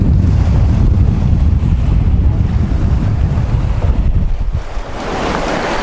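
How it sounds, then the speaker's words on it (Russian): Loud, continuous roar of Black Sea waves churning under strong gusting wind buffeting the microphone, with no voices. "здесь волны"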